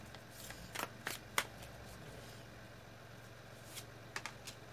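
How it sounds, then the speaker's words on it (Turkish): Tarot cards are shuffled and drawn by hand: a few quick, crisp riffling bursts early on, a quiet pause, then two more soft card snaps, all close but faint against a low background hum. "İki tane kart daha çekeceğim."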